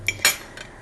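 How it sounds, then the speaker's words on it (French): A stainless steel spatula scrapes and clinks against a pot while stirring a melting oil mixture for homemade baby liniment, two or three brief close metallic taps and swishes. "Vous pouvez homogénéiser régulièrement à l'aide d'une spatule en métal, en inox"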